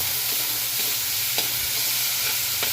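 Ground meat frying in a pan with a constant bright sizzle and a few soft stirring knocks, close up and without voices.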